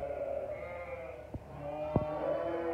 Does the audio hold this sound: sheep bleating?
yes